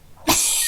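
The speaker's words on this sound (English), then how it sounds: "The cat was asleep, but it's woke up and it's talking" A very high-pitched, squeaky cat gives a single brief meow right after waking, close and clear against a quiet room.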